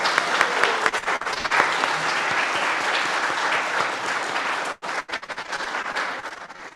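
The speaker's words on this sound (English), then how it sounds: "Let's show our gratitude again with one big round of applause for everybody." A Unitarian Universalist church congregation claps in a sustained round of applause that fills the room, breaks off briefly near the end, then resumes.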